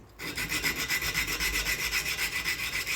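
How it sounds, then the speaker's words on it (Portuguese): A knife spine is sanded by hand with 80-grit sandpaper, a close, rhythmic rasping with quick back-and-forth strokes repeating steadily for a few seconds. "Eu vou começar lixando aqui, ó, o dorso com uma lixa 80"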